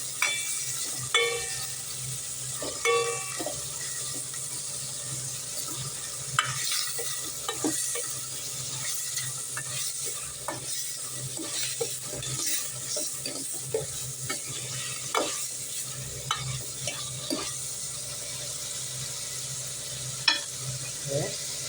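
Tomatoes and green chilies sauté in a pan for a white lady fish curry, with a steady close sizzle broken by repeated spoon scrapes and stirring clinks.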